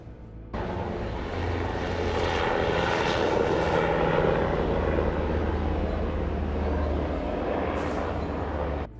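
An aircraft engine drones steadily in flight, starting abruptly and holding a loud, close, broadband roar with a low throbbing hum throughout.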